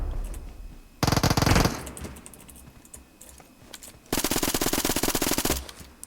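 Gunfire in the mobile shooter PUBG Mobile, played on the GameLoop emulator: two loud bursts of rapid automatic fire, one short and one longer, separated by a quieter stretch of game ambience.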